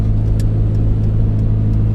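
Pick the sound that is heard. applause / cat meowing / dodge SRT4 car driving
dodge SRT4 car driving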